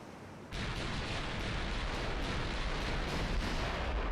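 Naval cruiser guns fire salvos in the warship game Ultimate Admiral Dreadnoughts, set in Germany in 1940: an abrupt heavy boom breaks into a continuous, loud rumbling roar of gunfire and blasts that holds for several seconds.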